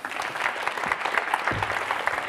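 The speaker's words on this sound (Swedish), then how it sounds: "En applåd för Jonas" An audience applauds a guest walking onto the stage at a Swedish panel event on free speech, with steady close clapping throughout and no voices over it.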